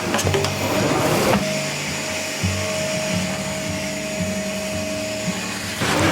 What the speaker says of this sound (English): once you remove your ash pan, go ahead and vacuum inside, reaching all the way back in